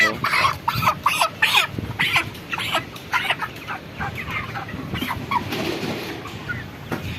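Broiler chickens clucking and squawking close by in a poultry shed during weighing on day 31, repeated loud bursts of calls, busiest early and tapering off toward the end.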